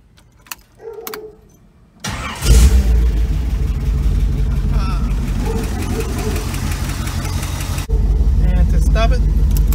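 A Datsun 280Z engine cranks and catches, then settles into a loud, steady running rumble with rising revs; a few quiet clicks come before it starts.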